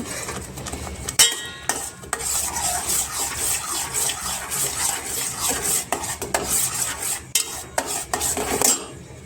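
A spoon scrapes and stirs thick homemade fruit jam in a pan over a low gas flame, giving repeated rubbing and clinking strokes against the metal with a faint sizzle beneath, close and steady with no talking.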